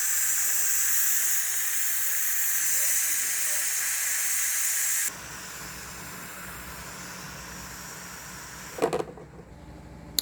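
A pressure cooker holding milkfish (bangus) cooked as Spanish-style sardines vents steam in a loud, steady hiss that cuts off abruptly midway, followed by quieter background and a brief clunk of handling near the end.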